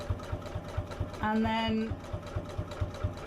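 A sewing machine stitching around the hearts of a fabric heart cushion at a stitch length of 3, a steady rapid mechanical chatter close by, with someone speaking briefly over it.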